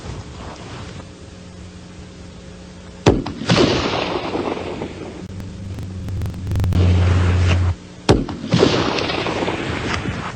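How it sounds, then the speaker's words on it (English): Three sharp, loud reports from a .44 Magnum Buff Buster handgun, spaced several seconds apart, each followed by a brief ringing decay over a steady background hum. "Now these are the 3 shots with a Buff Buster, .44 Magnum."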